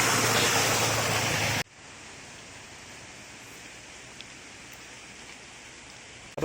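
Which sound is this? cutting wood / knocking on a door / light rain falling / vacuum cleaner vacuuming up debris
light rain falling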